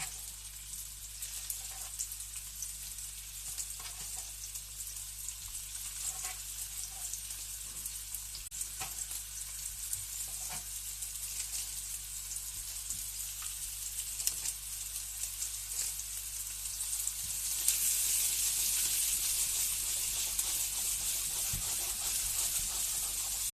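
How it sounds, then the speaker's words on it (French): Meatballs for spaghetti and meatballs browning in a frying pan, giving a steady close sizzle and crackle that grows louder and brighter for the last few seconds, with no talking. "on va intégrer les boulettes. Et on va les faire dorer un tout petit peu de tous les côtés pour qu'ils aient une belle couleur"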